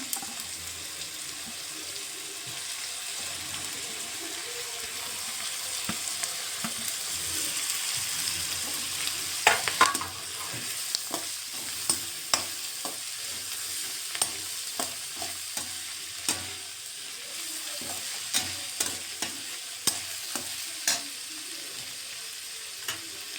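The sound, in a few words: capsicum frying and being stirred in a pan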